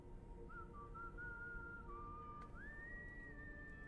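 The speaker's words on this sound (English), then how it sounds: "He's whistling the tune?" A video game character whistles a short tune alone, the melody moving through a few sustained pitches before a higher final note, clear above a low steady background hum.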